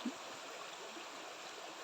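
A stream of rust-stained water flows from a marshy bog in the Sierra Madre near Nakar, Quezon, a steady soft rushing and trickling close to the mic.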